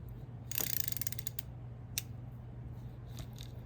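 A Penn Spinfisher 850ss spinning reel being reassembled gives off quick ratcheting clicks in a short burst, then a single sharp click and a few fainter ones, close and quiet against a low background hum.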